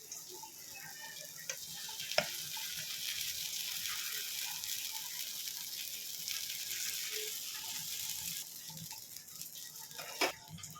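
Idli batter goes onto a hot pan and gives a faint, steady sizzle with a few small clicks and taps, no talking.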